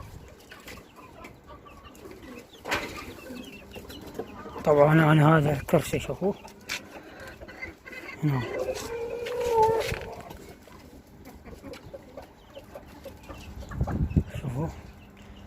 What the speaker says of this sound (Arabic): جيب دجاجات هراتيات حلوات شوفوا المناسبات اشتريهن